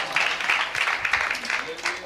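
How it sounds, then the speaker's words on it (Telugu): A church congregation claps hands together in praise during a live worship message, a dense, steady patter of many hands that runs throughout at moderate loudness. "చప్పట్లు కొడుతూ దేవుణ్ణి మనం గణపరుద్దాం."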